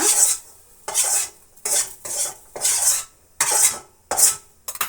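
A spoon works through fried beetroot in a pan, scraping it up to lift out, in about eight steady, close strokes with short quiet gaps between them.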